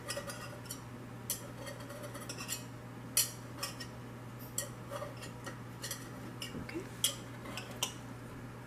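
A knife traced around the edges of a non-stick donut pan to loosen the donuts, giving a steady run of light metallic ticks and scrapes with a few sharper clinks, close and fairly quiet over a low hum.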